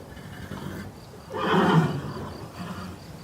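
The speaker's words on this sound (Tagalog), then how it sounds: "Ngayon lang ako nakakita ng ganito kalaking kabayo." A horse neighs once, a loud swelling whinny rising in the middle of the clip over a low background rumble, with no talk.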